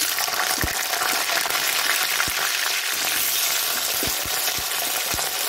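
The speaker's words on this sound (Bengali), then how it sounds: "আলুগুলো দিচ্ছি।" Potatoes frying in hot oil for a raw fig curry without onion give a steady, close, loud sizzle, broken by a few soft knocks of a spatula stirring the pan.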